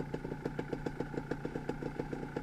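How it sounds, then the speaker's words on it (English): Two-stroke dirt bike engine on an off-highway trail, running close with a rapid, uneven popping pulse that spits and sputters over a steady mechanical drone, fairly loud and continuous without talking. "I think I hear the bike starting to spit and sputter a bit in here"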